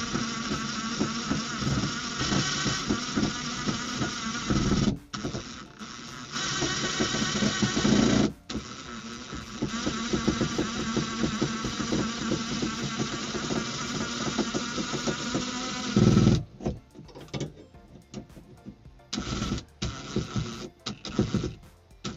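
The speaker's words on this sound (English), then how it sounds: "So time to tighten these tugger bolts" A power driver tightens tugger bolts on a wall hanger, its high whirring drone running steadily in long bursts with brief pauses between runs.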